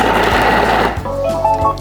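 A Thermomix blade whirs loudly in its bowl, chopping food in a brief burst, the motor noise dense and steady, then dropping as the pieces settle.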